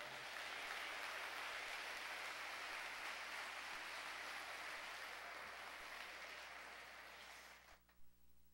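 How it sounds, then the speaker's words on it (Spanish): A church congregation applauding to the Lord in a long, dense burst of clapping that holds steady, then fades out near the end. "dele fuerte ese aplauso al Señor"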